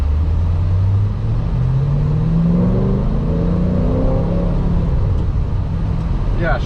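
A twin screw supercharged 2010 Chevrolet Camaro 2SS with a short throw shifter and upgraded clutch drives along, its engine a loud, steady low rumble rising and falling in pitch through the gears, heard from inside the car.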